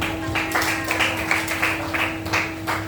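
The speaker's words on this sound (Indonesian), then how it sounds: "Beri aplaus dulu" Students in an Indonesian multi-grade classroom clap for a classmate's correct answer, a few seconds of scattered, rhythmic handclaps at moderate volume over a steady low hum.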